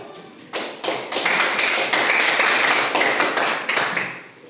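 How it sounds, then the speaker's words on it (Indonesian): A room full of people gives group 3 a round of applause, dense steady clapping that starts abruptly, holds strong and close for a few seconds, then thins and fades at the end. "kita berikan tepuk tangan untuk kelompok 3"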